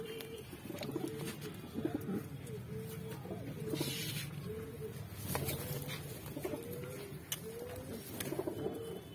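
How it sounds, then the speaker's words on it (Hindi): Saharanpuri and Kasni pigeons coo repeatedly in a low, rolling rhythm, several birds overlapping at close range, with background rustling and occasional faint voices. "ये सारे सुपर क्वालिटी के जोड़ों वाले कबूतर हैं, रहे हुए कबूतर हैं सारे।"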